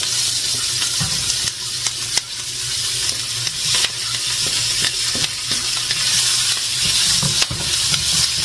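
Onions and garlic frying in a pan, a steady loud sizzle with occasional clicks and scrapes of stirring, heard close and alone.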